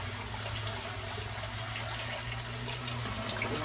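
Steady running water pours from a tap, rinsing chemical residue off a decal in a sink, a continuous hiss that holds an even level throughout.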